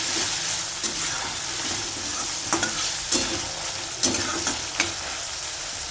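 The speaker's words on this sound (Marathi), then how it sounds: "आता हे पण दोन मिनटं आपण परतून घेणार आहोत हिरवे मटार चांगले शिजवतो" Green peas sautéing in a pan for curd rice, a steady bright sizzle with soft stirring scrapes and a few sharper spoon clicks, close and continuous with no talk.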